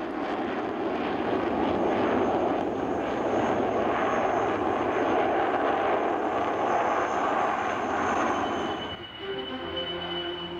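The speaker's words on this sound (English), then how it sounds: "A heavy jet flying with a turboprop in its wake." A heavy jet flies overhead with a turboprop aircraft trailing in its wake, giving a loud, continuous engine roar that holds steady, then drops off near the end, leaving a thinner whine.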